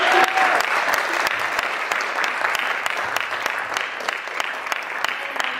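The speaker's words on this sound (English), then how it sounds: "Give her another big round of applause" Sustained audience applause at an award ceremony, a dense steady clapping from a crowd filling the room, fairly loud and continuous with no voices over it.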